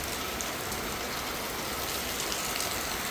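Winter rain falls in a dense, even patter around a godown loading site near Jamnagar, a steady close hiss of drops on surfaces with no voices.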